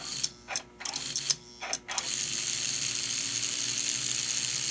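Two motors of an American Flyer ALCO 470 toy train locomotive, one wired in reverse, run with a steady close mechanical whir and gear chatter after a few short start-stop bursts.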